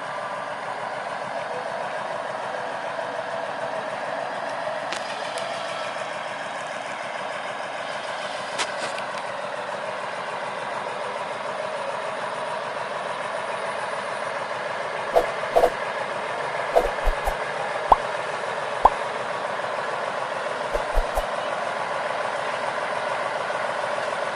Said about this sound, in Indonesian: masinis Pak Eko melajukan lokomotif melewati bekas tumpukan jerami